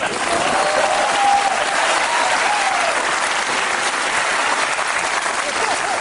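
A theatre audience at a French comedy stage show applauds for several seconds. The dense, steady wash of many hands clapping holds at an even level, with a faint tone running underneath.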